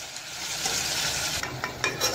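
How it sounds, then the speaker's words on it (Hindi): Chilli, garam masala, red chilli seeds and salt are stirred in a frying pan for a chicken korma, giving a steady close sizzle with light scraping and stirring sounds. "मसाले ऐड करने के बाद इसे अच्छे से मैं पहले फ्राई मिक्स कर लूँगी"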